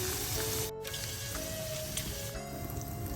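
Prawns fry in hot oil in a pan for seafood fried rice, a steady close sizzle and crackle holding at an even level throughout.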